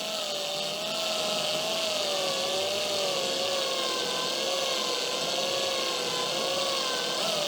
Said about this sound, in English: Let's rotate it slowly with the drill.